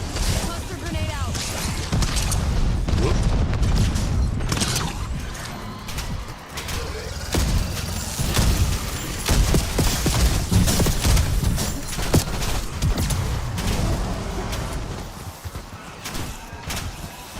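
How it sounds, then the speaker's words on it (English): Cluster grenade explosions in a video game go off in a dense, continuous barrage of blasts and crackling debris, loud and sustained throughout with layered impacts. "Cluster grenade out."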